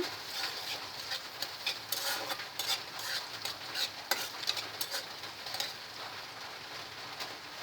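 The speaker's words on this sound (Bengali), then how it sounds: "এবার আমি ডিমের সাথে এটাও একটু ভেজে নিব বিফটা" Boiled, salted beef pieces frying with eggs in a pan, a steady soft sizzle with scattered scraping stir clicks throughout.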